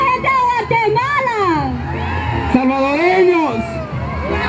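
A crowd at a Central American parade whoops and shouts with cheering and babble, while a loud amplified voice calls out over the noise throughout.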